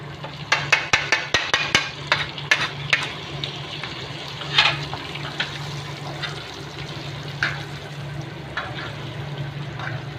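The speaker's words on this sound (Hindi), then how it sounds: "अब मैं अपनी मिर्ची इसमें डालूँगी" Green chilies sizzle and crackle in hot mustard oil over a low flame, a steady frying hiss with sharp spattering pops clustered early, then a softer continuous sizzle with occasional stirring clinks.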